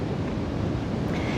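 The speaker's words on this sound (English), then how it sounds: "You can hear the powerful waves in the ocean here behind me." Powerful ocean waves roll onto a beach at Nosara, Costa Rica, a loud, steady roar of surf with wind buffeting the microphone and no break in the wash of sound.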